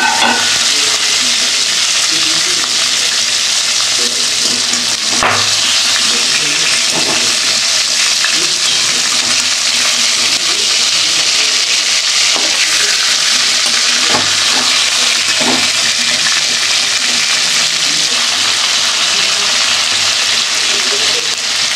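Boal fish fries in a pan of hot oil, giving a loud, steady sizzle and hiss throughout with a few faint stirring knocks, and no voices.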